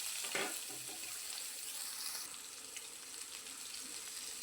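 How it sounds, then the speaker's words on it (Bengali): Cut potatoes frying in oil tempered with black cumin seeds in a Bengali kitchen, a steady close sizzle and hiss with faint stirring near the start. "আলুগুলোকেও আমি এইভাবেই ভেজে নেব"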